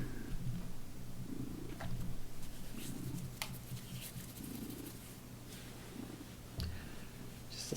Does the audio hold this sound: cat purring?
yes